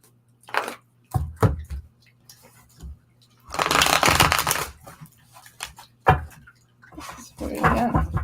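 Tarot cards being shuffled in quick irregular bursts of riffling and slapping, with short gaps between flurries and a faint low hum underneath.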